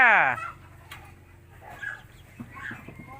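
Chickens clucking at close range, with a sharp squawk at the start followed by scattered soft clucks and scratching over a quiet background, and a voice speaking faintly.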